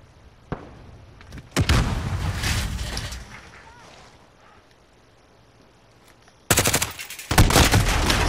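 Gunfire in Call of Duty: Modern Warfare: a single sharp shot, then a dense burst that trails off, and after a quiet stretch another loud run of rapid automatic fire.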